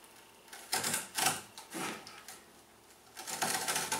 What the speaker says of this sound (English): So to cut this, because it's pretty thin, I'm just using a pair of heavy-duty shears.